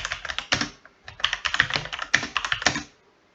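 Computer keyboard typing a web search, quick bursts of crisp close key clicks with a short pause midway, then a final flurry before stopping, no talk.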